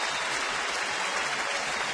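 A ballpark crowd in Minnesota applauding an injured player as he walks off the field: dense, sustained clapping from a large crowd, steady and continuous throughout.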